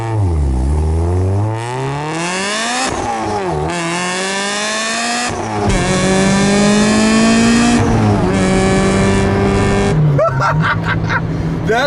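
A supercharged 2008 Honda S2000 CR revs hard through several gears, each pull rising in pitch before a quick shift, loud and continuous with a supercharger whine.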